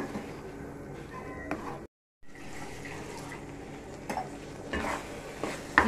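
Vegetables sautéing in a pan for sambar, with steady stirring and scraping over a soft sizzle, close and fairly quiet, broken by one brief silent gap.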